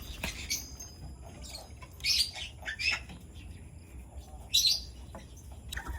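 Pet birds Oli and Luna giving short, high chirps and tweets in scattered bursts, fairly quiet and close, over a soft indoor background.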